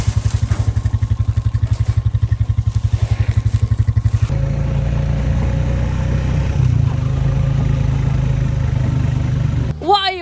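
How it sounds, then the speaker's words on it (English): A quad bike engine runs close by, first with a fast regular pulsing putter, then settling into a steadier, smoother rumble before a brief squeak at the end. "take the quad bike and the trailer across the field"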